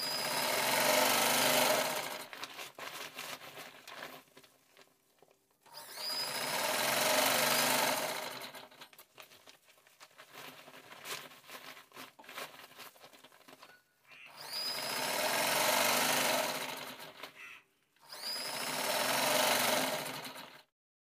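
A sewing machine top-stitches a shopping bag in four loud, steady bursts of motor running, separated by quieter pauses of fabric handling.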